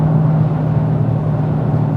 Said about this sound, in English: me blipping the throttle to bring those RPMs up